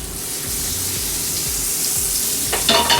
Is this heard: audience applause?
no